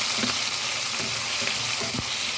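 Tomatoes and onions sautéing in a hot pan for escabeche, a loud continuous sizzle with a few soft spatula scrapes close by.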